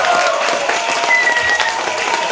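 Steady, dense audience applause with cheering for a Polish stand-up comedian at a comedy show in the Netherlands, filling the room loudly and continuously without a break.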